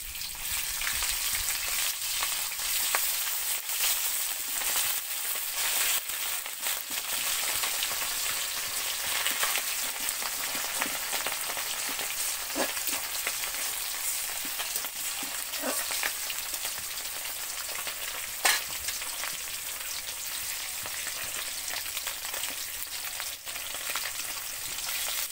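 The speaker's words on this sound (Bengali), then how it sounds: "মাছগুলো লাল করে ভাজা হয়ে গেছে" Fish fries in a pan with a continuous crackling sizzle that stays steady throughout, broken by occasional sharper pops and spits.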